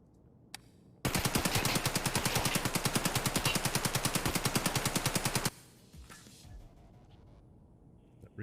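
Automatic gunfire in Escape from Tarkov, a loud, rapid unbroken burst of closely spaced shots lasting about four and a half seconds, then quiet background.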